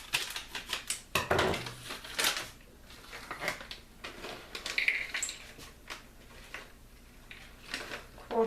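Scissors snip and crackle at a package of pecans during home baking, with short sharp cuts and plastic rustling in irregular bursts close to the microphone.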